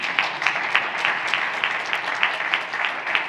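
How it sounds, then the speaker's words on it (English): Steady audience applause at a leadership summit, many hands clapping in a dense, even patter with regular peaks, fairly loud and close, no voices over it. "That deserves an applause."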